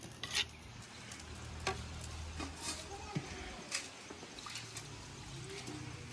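A curry cooks in a pan, giving a soft sizzle with scattered scraping stir strokes and a few clinks. The sound is quiet and close, and faint background noise runs throughout.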